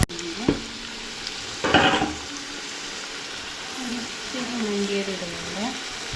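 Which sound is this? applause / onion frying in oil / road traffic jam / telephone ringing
onion frying in oil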